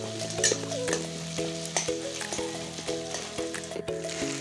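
Egg frying in a pan for egg Maggi gives a steady, close sizzle that runs through the whole stretch, partly under rhythmic tonal music with regular beats.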